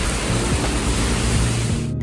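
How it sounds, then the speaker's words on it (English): Heavy rain pours down over a Singapore neighbourhood in a dense, continuous roaring hiss that stays loud and even throughout. "It's pouring now"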